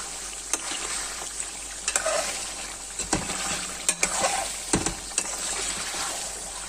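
Mutton karahi frying in desi ghee, a constant close hiss of sizzling broken by scattered clicks and knocks of a spoon stirring in the pan.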